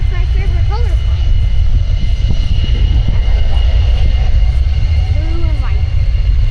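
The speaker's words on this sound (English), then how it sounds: "Hey, there's my favorite color plane." Steady engine drone from planes at EAA AirVenture air show in Oshkosh, Wisconsin, a continuous loud roar with distant whine, while people talk casually nearby.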